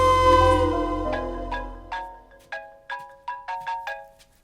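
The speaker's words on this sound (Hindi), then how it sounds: "वंदना, फोन बज रहा है।" A mobile phone ringtone plays a bright, melodic sequence of tones that starts sustained and then breaks into a rhythmic run of short, repeating notes, loud and close with no one talking.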